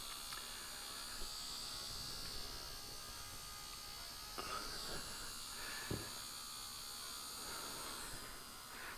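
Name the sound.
car electric fuel pump running, Ford Mustang 2004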